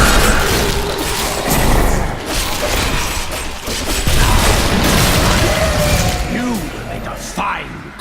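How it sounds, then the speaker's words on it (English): Necromancer corpse explosions in Diablo 3 erupt as dense, overlapping booms and crashes in a chaotic battle, loud and nearly continuous with game effects layered throughout. "And more corpse explosions."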